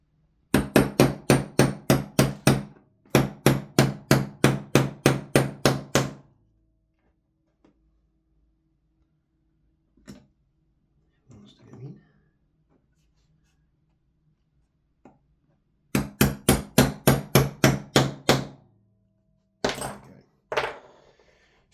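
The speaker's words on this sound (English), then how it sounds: "So we're going to put these pins back in" Pins tapped back into a GHM9-G gas blowback airsoft pistol: rapid bursts of sharp metallic taps in quick rhythmic runs, close and loud, separated by pauses with a few faint handling clicks.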